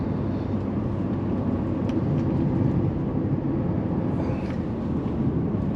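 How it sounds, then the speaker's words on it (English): Inside a Mercedes-Benz CLA 250 4MATIC on twisty roads, a steady engine drone and road rumble hold at an even pitch while the transmission stays in gear without upshifting. The sound is continuous, with no talking. "You can hear the gear, it's just, the transmission is just beautiful."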